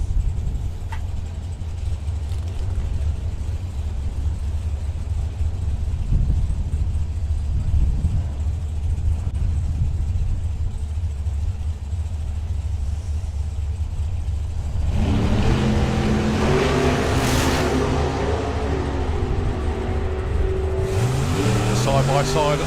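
Two drag racing cars, the Shotgun Mustang and a little 27 Roadster, idle with a steady rumble before launching into loud roaring acceleration that sweeps upward, with commentary over the track noise.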